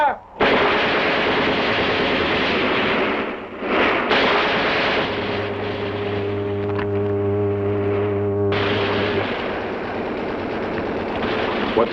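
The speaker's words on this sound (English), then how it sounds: "They only have a machine gun now" Rapid, sustained automatic gunfire from a 1960s space-adventure battle, loud and dense, with a steady droning hum running beneath the bursts for several seconds.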